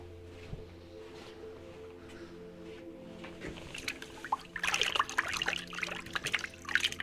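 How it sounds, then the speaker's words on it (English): Water runs and trickles while someone rinses their mouth, starting softly and swelling into a louder, splashy stream in the second half, close by with no talking. "I really need to rinse my mouth off."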